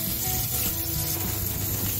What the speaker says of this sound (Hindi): जब तक गोल्डन ब्राउन ना हो जाए, आपको बस उतना ही इसको फ्राई करना है